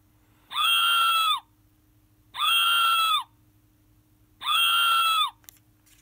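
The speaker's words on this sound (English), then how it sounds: "Number four, a person screaming." Three evenly spaced synthesized screaming sounds from a SmartLab Smart Circuits electronics kit, each about a second long, loud, buzzy and close, separated by short silences over a faint electrical hum.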